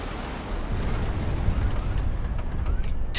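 Rockets fire and burst in a HighFleet battle, making a dense, continuous low rumble of overlapping booms and crackling blasts that swells slightly and holds steady for a few seconds.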